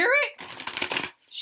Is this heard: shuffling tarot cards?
yes